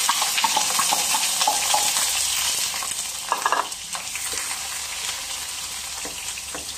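Baby jackfruit dish frying in cooking oil in a pan, with a steady loud sizzle and hiss that eases a little partway through, plus occasional clinks and stirring sounds.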